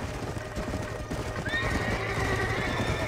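Panicked horses in Red Dead Redemption whinnying and neighing with shrill rising calls, hooves clip-clopping underneath, loud and close over a busy game backdrop during a bear encounter.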